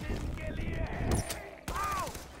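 Gunfire and a rocket launcher blast from the video game Far Cry 4, dense bursts of shots with a sharp explosive hit midway, under game sounds.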